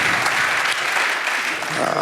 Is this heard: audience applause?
yes